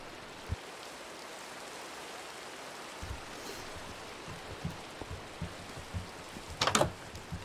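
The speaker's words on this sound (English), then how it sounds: "It's raining" Steady hiss of rain in the video game Minecraft, soft and constant throughout, with a few faint thuds and a brief brighter rustle near the end.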